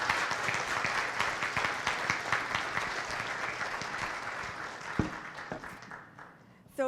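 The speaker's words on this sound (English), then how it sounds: "Ladies and gentlemen, a round of applause for Kevin Quinn." Sustained applause from an audience at a Surrey and South Fraser regional transportation event, a dense wash of many clapping hands that runs steady for several seconds, then thins with a few louder individual claps before fading near the end.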